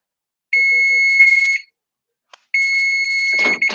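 An oven kitchen timer goes off while an apple pie bakes: two loud, sustained electronic beeps about a second each, separated by a pause, the second ending in a clatter.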